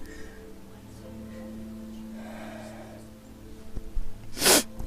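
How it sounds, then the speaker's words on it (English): A single sharp sneeze bursts out near the end, loud and close, after a few seconds of quiet room tone with a low steady hum. "I'm gonna sneeze."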